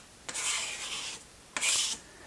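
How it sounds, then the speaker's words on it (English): Two separate scraping strokes as a die scrapes die-cut paper pieces off a Magic Mat on a Big Shot Switch Plus die-cutting machine. Each is a harsh, close rasp lasting under a second, with a short gap between them. "then I'm just going to scrape this off with a die"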